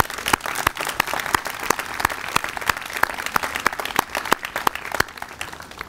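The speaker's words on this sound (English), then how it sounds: "if we could give a round of applause for our students and our faculty one more time" Audience applause for students and faculty at a community college science center ribbon cutting, with sparse individual claps standing out sharply over a steady bed of crowd clapping.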